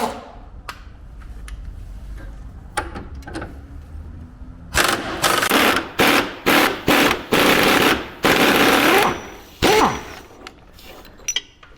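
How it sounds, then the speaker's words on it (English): An impact wrench removing body bolts from a Jeep, firing a series of loud, close hammering rattles in short bursts of roughly a second each, preceded by scattered clicks and clanks of tools. "You're not supposed to use an impact to take out your body bolts."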